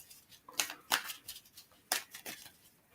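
Tarot cards are shuffled by hand in quiet, crisp bursts, several sharp riffles and flicks spaced irregularly across a few seconds, close and fairly soft with no talking.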